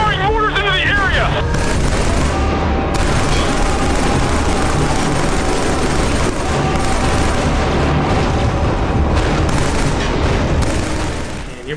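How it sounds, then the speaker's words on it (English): Mortar fire and explosions rage in Killzone 3 as a dense, continuous barrage of booms and gunfire runs loud and close through the whole stretch, with voices over the battle. "The thing's firing mortars into the area!"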